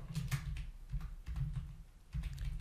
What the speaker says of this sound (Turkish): Dikkat ederseniz klavyeyi değiştirdim. Çünkü diğer klavye çok ses çıkarıyor gibi geldi bana.